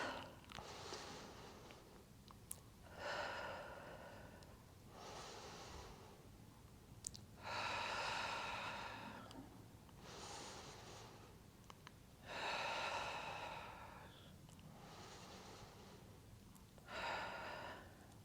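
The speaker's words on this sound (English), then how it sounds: "In through the nose with your breath, out through the mouth." Slow, deep breaths during a Pilates reformer workout, in through the nose and out through the mouth, come close and clear as about seven long, even breath cycles with no talking.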